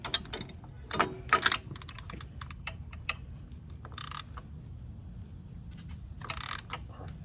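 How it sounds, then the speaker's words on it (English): An oil filter being loosened on a 2019 Harley-Davidson Street Glide during an oil change produces faint, sparse clicks and ratcheting taps, a few brief bursts of metallic scraping standing out against a quiet background. "So I'm gonna go ahead and loosen up my filter right here."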